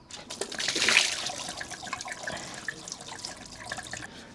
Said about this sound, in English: you undo coolant hoses and it just goes everywhere and all over you